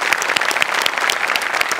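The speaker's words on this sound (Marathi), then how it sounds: "जोरदार टाळ्या" Studio audience applause on a Marathi TV comedy show, loud and dense clapping from a large crowd, sustained without a break.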